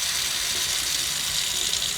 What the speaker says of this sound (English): we've got water coming out of here